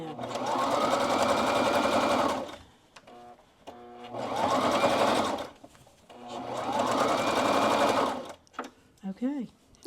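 A sewing machine stitches backwards over a seam in three long, loud motor runs, each rising and settling before stopping, with short pauses of clicks and handling between them and people talking nearby.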